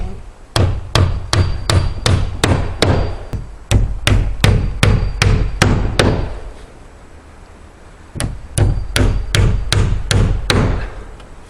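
Hammer blows drive a nail into a board-and-batten exterior wall. Loud, close, evenly spaced strikes come in two runs separated by a short quiet pause, with no talking.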